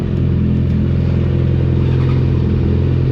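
Motorcycle engine idling steadily nearby, a loud continuous low rumble with mechanical clatter and no revving.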